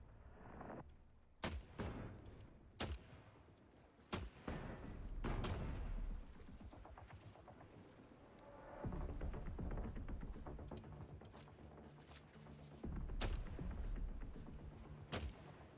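Separate gunshots ring out one by one in the survival game The Last Caretaker, sharp loud cracks with booming tails spread across the stretch, over a low rumbling background.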